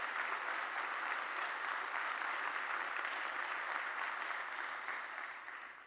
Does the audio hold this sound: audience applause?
yes